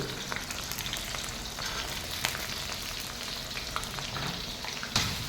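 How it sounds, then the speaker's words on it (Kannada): Green beans frying in a pan with onions for paneer fried rice, a steady broadband sizzle running throughout with faint scraping clicks and a slight surge near the end, no voices. "ಫ್ರೈ ಮಾಡ್ತೀವಿ ಬೀನ್ಸು"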